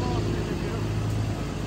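A lift truck runs with a loud, steady, close engine drone during a big fir removal, continuous for the whole short stretch.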